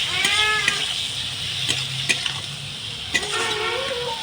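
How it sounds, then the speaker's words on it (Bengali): Small fish stirred in a pan with ground cumin and coriander, close scraping strokes and soft sizzle under a low hum, with a cat meowing intermittently nearby. "দিয়ে এটা ভালো করে নাড়িয়ে নেব।"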